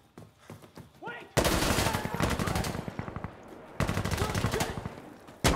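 Gunfire in the video game Insurgency Sandstorm: a few sparse shots, then two long, loud bursts of rapid automatic fire close by, with a brief pause between them.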